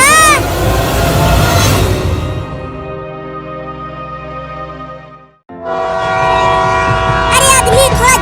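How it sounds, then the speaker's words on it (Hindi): A train arrives loudly with blaring horn blasts and heavy rumbling that fade briefly, then return with sustained horn tones and warbling whistle sounds close by. "ट्रेन आ गई।"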